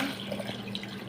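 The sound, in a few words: water being poured in for cooking eggplant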